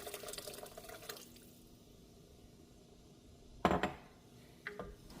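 Soup of broth and water in a pot is stirred, with a spoon clinking and scraping against the pot in a few sharp bursts amid soft liquid sloshing.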